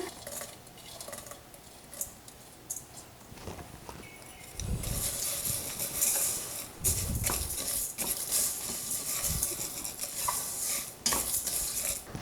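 Whole spices such as cinnamon, cloves and black cardamom are stirred in a hot dry pan, giving a steady rattling scrape with soft sizzling and occasional utensil clinks, close and continuous.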